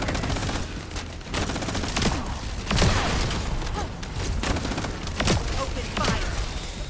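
Rapid gunfire bursts from the video game The First Descendant, with dense automatic shots and heavier booming hits repeating throughout, loud and close, with mechanical clatter between volleys.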